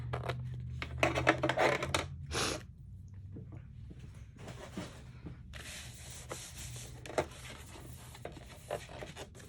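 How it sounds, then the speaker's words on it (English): Scissors trimming journal pages for a no-sew keepsake journal, with a few crisp snipping and paper-rubbing bursts close up, separated by quieter rustling and handling of paper. "The nice thing is you can take your pages like this and just trim them up to make them exactly match."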